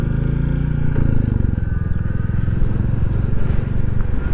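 A Royal Enfield Classic 350 motorcycle riding through the Peak District in a higher gear, giving a loud, close, steady single-cylinder thump with a brief shift in pitch near the start.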